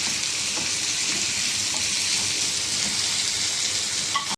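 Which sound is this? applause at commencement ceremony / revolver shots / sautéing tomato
sautéing tomato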